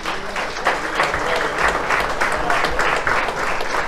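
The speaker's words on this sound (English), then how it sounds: "Let's give them a big round of applause." Steady applause from an audience at a Chamber of Commerce legislative update held in a restaurant, a dense patter of clapping that holds at an even level throughout, close and loud.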